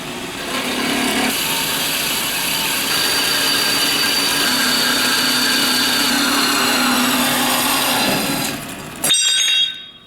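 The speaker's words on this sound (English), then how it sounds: "I'll go ahead and I'll cut this up into 7-inch pieces on the bandsaw" A bandsaw cuts steel stock into 7-inch pieces for a homemade gold ore jaw crusher, giving a steady loud grinding whine that holds for several seconds, then cuts off with a brief clatter at the end.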